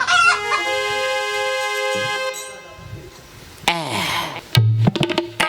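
A rooster crows loudly and close by, a long drawn-out call, followed by a few sharp squawks and clucks.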